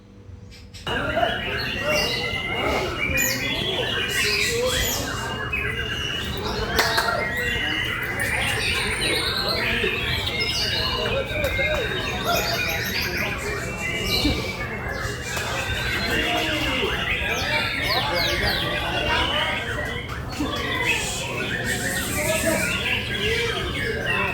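A white-rumped shama sings continuously in rapid, varied phrases of whistles and chirps, loud and close, with people talking over it.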